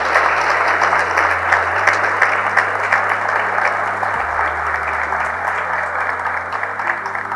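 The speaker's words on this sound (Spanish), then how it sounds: "Para ellos, un fuerte aplauso porque es un logro importante." An audience at a conference breaks into steady, dense applause that continues strongly throughout, with a faint murmur of the crowd underneath.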